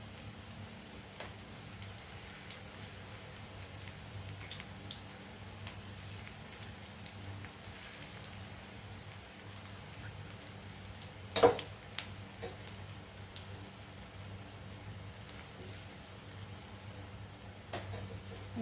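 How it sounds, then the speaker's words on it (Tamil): Sliced bitter gourd and onion frying in hot oil, giving a faint, steady crackling sizzle that sounds like light rain, with a low hum beneath it and one brief louder pop. "வெங்காயம் பாவக்காயெல்லாம் நல்லா பொரிஞ்சிட்டு நான் எடுக்கிறேன்."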